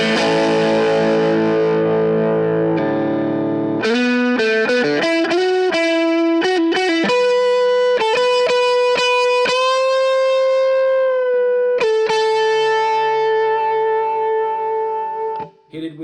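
Duesenberg Julietta electric guitar played with its P90 and Grand Vintage pickups combined, bright distorted chords and a melodic lead line, loud and steady with no talking.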